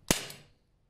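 A single sharp crack from an Umarex SA10 4.5mm CO2 air pistol firing, close and crisp, with a short ringing decay fading out within half a second.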